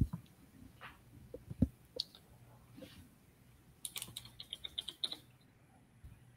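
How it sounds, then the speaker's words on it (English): Typing on a computer keyboard, heard as faint, scattered clicks at first, then a quicker run of light key taps, quiet and close against a soft background hiss. "Yes, that was me typing"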